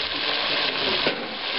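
Loud, steady sizzle of sausage grease in a hot pan as white wine and balsamic vinegar hit it, a continuous close frying hiss with faint stirring scrapes and no talk.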